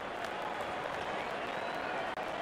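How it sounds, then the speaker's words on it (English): Steady broadband roar of a stadium crowd cheering and applauding in a cricket video game as the opening batsmen walk out, continuous and dense throughout. "Out come the openers, cheered by a good crowd in."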